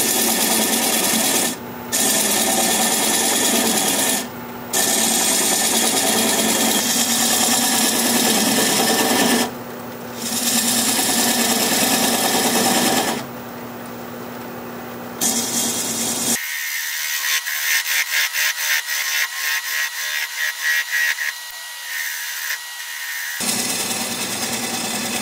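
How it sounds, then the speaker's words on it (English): A wood lathe spins as a 3/8 inch standard grind bowl gouge cuts away a tenon, a close, scraping, rasping hum in repeated passes with brief pauses, then a steadier chattering whir near the end. "I'm going to use a 3/8 inch standard grind bowl gouge and commence to removing that"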